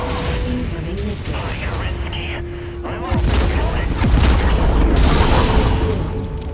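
Booming missile explosions and rapid impact bursts in the mech combat game MechWarrior 5 pile up over a dense, rumbling battle din, growing heavier in the second half, with a voice talking over it.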